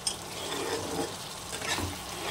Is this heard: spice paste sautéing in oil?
yes